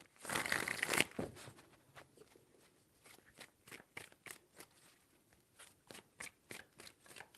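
Tarot cards are shuffled, first in a loud dense riffle lasting about a second, then in a string of quick, crisp card slaps and flicks repeating at a steady rhythm, close and alone.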